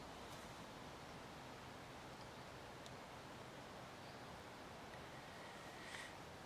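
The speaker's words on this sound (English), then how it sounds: "That's the sound of 250 acres of woodland with nobody in it." Quiet, steady ambience in an empty woodland, with a soft broadband hiss like distant wind through trees, a few faint high chirps scattered throughout.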